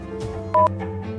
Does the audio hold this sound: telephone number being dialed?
yes